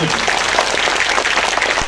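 A crowd gives long, loud, continuous applause at an event honoring Dr. Himanta Biswa Sarma, with dense clapping filling the whole moment.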